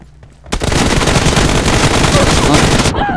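Sustained automatic gunfire in a video game, a dense, loud stream of rapid shots running nearly three seconds before cutting off abruptly, with a brief quiet lead-in.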